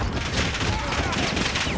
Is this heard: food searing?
no